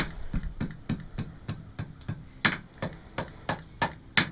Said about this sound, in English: Grab our hammer, drop down to the face of the anvil